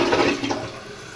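A newly installed Kohler Highline Arc round-bowl toilet flushes with a loud, close rush of water that fades slightly over a second, with no talking.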